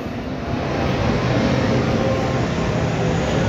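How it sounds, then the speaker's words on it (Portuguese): Airplane passing overhead, a loud steady broadband roar that holds throughout without any talk. "Não, o avião passando."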